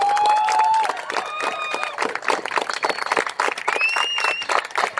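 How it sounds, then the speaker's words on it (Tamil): An audience in Vellore breaks into sustained clapping with scattered cheers and whistles, steady and moderately loud, and a whistling tone sliding over the top near the start and again later. "வேலூரே அதிர்கிற வண்ணம் ஒரு பலத்த கைத்தட்டல் நம்ம எல்லாம் தரலாம்"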